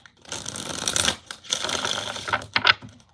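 Tarot cards being shuffled by hand in bursts of crisp riffling, three main runs separated by short pauses, close and fairly loud with no voice over them.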